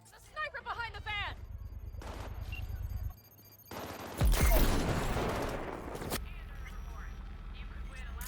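Sniper gunfire rings out in the video game Cyberpunk, a loud burst of shots and blasts cutting through game effects, with voices talking around it.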